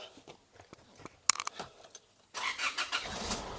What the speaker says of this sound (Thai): เดี๋ยวเรามาดูในส่วนของห้องเครื่องแล้วฟังเสียงเครื่องยนต์กันนะครับ